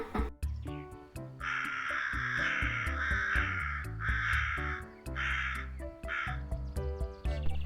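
A crow caws repeatedly in harsh, steady calls, clear and close, over a background of plucked musical notes.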